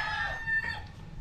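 Young stags crow at a game farm, a single close, clear rooster crow lasting about a second over faint farmyard background.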